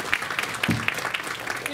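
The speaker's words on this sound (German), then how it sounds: "ein Applaus für die Freiwilligen" An audience at a hypnosis and NLP congress applauds volunteers, with a brief, fairly loud burst of clapping and a voice breaking in partway through.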